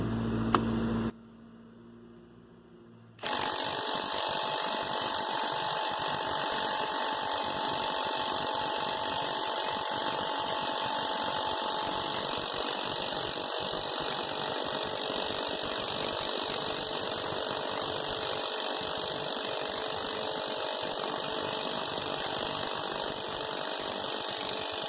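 An impact wrench runs continuously, trying to loosen a stuck, cross-threaded bolt, giving a loud, steady mechanical buzz and rattle that stays close for over twenty seconds after a short quiet start.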